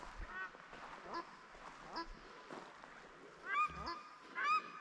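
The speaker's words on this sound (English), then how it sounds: "Of course I managed to disturb some paradise ducks," A disturbed pair of paradise ducks, male and female, honk and call repeatedly at close range, with louder bursts toward the end, during a subzero winter sailing and camping trip.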